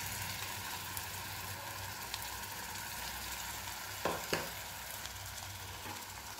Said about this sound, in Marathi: नंतर हे व्यवस्थित असं परतून घ्यायचं आहे। टोमॅटोचा कच्चेपणा जाईपर्यंत हे परतून घ्यायचं आहे।